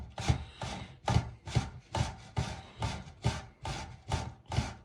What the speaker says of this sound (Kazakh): Үккіштен майда түріне өткіземіз.